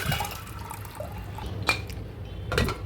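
Water and lentils being poured into a pressure cooker for mutton haleem, a continuous close splashing fill with small drips and a couple of sharper metallic knocks, no talking.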